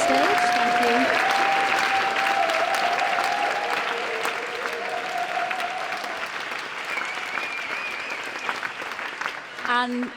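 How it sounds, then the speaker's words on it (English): Audience applause for the speakers on stage after a panel event, sustained clapping from a seated crowd under a voice speaking over it, tapering near the end. "give another round of applause for all our speakers on the stage"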